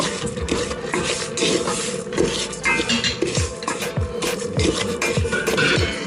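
Food stirred in a pot, with a continuous run of scraping and clinking of a utensil against the pot's metal sides and bottom, loud and close, with no talk.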